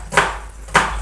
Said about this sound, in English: I'm just cutting some onions.